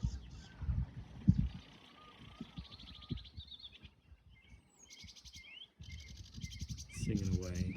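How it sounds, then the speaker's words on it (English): A sedge warbler sings in West Sussex, scratchy chattering phrases and buzzy trills in several bursts, mixed with low handling and wind rumble, another bird's whistle, and a brief loud close thump near the end. "We have a sedge warbler"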